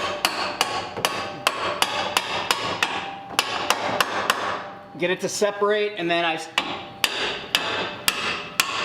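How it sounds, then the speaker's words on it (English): Repeated sharp hammer blows on a pickle fork wedged into the ball joint of a lower control arm on a 2005-2014 Mustang GT, struck in a steady rhythm with a brief pause, while someone speaks briefly between strikes. "Hit it with a hammer."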